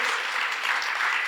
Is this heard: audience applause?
yes